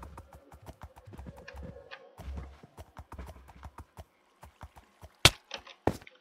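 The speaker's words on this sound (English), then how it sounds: "my horse is kind of hard to steer" Horse hooves clip-clopping in the Minecraft video game, a quick uneven run of hollow hoof knocks with a few louder thumps near the end, fairly quiet and with no voices.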